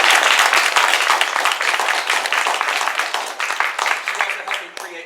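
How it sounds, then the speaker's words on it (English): An audience at a theatre author talkback applauds the costume designer with loud, close, sharply distinct claps, and occasional voices break in before the clapping gradually thins and fades. "a big round of applause for Betsy"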